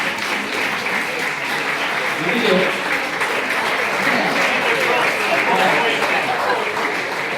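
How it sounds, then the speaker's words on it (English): Sustained applause from a standing banquet crowd honoring parents at a high school soccer banquet, steady and loud throughout, with a voice calling out encouragement over it. "Come on, give your parents a round of applause."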